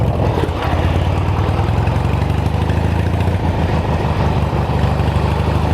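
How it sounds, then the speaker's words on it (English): A small engine on a Dinky runs strongly at a steady, throaty idle, loud and close, with a dense chugging rhythm throughout. "Motor's still got life."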